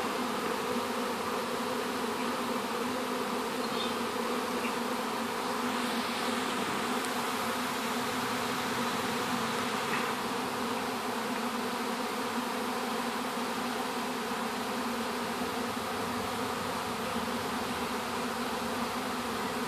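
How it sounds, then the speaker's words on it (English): A honeybee swarm streams into a bait box beside a beech tree, joined by hundreds of bees from a large neighboring hive. The buzzing is a dense, steady drone that holds loud and unbroken throughout, with no voices. "it's even hundreds of bees running over from the big neighbor hive"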